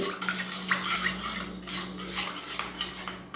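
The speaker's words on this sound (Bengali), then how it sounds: "দেখুন সব মশলা কিন্তু এই জলের সঙ্গে আমি খুব ভালো করে মিশিয়ে নিয়েছি" A spoon clinks and scrapes against a metal bowl while salt, chilli, coriander, cumin and turmeric powder are stirred into water, with steady rhythmic clatter and wet swishing close by, and no talk.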